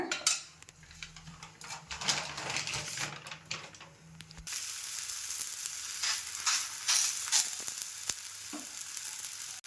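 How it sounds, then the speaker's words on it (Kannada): Green chickpea roti cooks on a hot griddle brushed with a little oil over a medium flame. Steady sizzling and frying crackle is heard, with scraping and clinks of a metal utensil against the pan. "ಹಂಚಿನ ಮೇಲೆ ಹಾಕ್ಕೊಳ್ಳೋಣ ಹಂಚಿಗೆ ಸ್ವಲ್ಪ ಎಣ್ಣೆಯಿಂದ ಹಾಕ್ಕೊಳ್ಳೋಣ"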